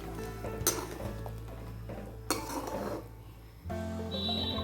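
Metal utensil scraping and clinking against a pot as okra tamarind curry is stirred, with a few sharper clanks and a steady kitchen hum underneath.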